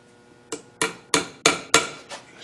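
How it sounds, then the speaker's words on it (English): Wooden dowels tapped in with a small hammer: six sharp, bright knocks at a steady pace, close and alone in a quiet room. "just tap it in, and the next one"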